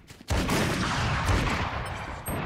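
Rapid gunfire from Valorant starts with a sudden loud burst and carries on as a dense, sustained fusillade of shots, with another sharp volley near the end.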